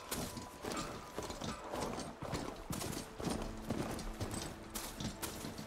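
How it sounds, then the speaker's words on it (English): A mount's hooves clip-clop in a steady, rhythmic trot in the video game Horizon Forbidden West, fairly quiet and alone, with faint mechanical clicks mixed in. "I think Roach works as a good name for your mount in this game as well"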